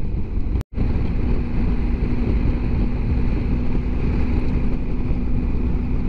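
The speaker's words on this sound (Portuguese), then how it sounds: "E continua o vento." Strong, gusty wind buffets a motorcycle rider on the Carretera Austral, a steady roaring rush of wind noise against the microphone with a brief dropout near the start, no voices.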